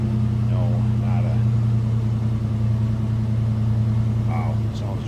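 A 1988 Ford Mustang GT with stock exhaust idles in a steady, low, even rumble from start to finish, with faint voices in the background.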